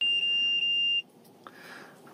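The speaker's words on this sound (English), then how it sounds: "the beeping there you hear is from the dash cam" A sharp electronic beep from a dash cam in a Toyota 4Runner TRD Pro sounds three times in quick succession, loud and steady, followed by quiet background noise with a faint click.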